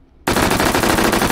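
A machine gun fires in the VR shooting game H3VR, bursting in abruptly after brief near-silence into a rapid, loud, continuous string of shots at close range.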